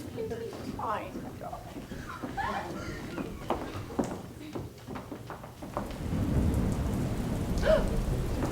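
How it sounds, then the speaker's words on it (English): Rain and thunder sound effect played during a school stage production of Pride and Prejudice, a steady wash of rainfall that swells louder toward the end with a low rumble, heard under and after actors speaking lines. "it is raining hard"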